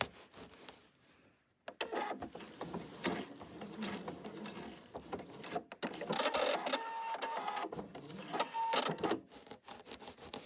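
Sewing machine stitching a fluffy tail onto a quilted Easter bunny wall hanging: a quiet start, then a close, faint mechanical whir with rapid needle clatter that speeds and slows in short runs, no voices.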